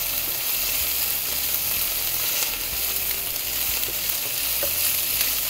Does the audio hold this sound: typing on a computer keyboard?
no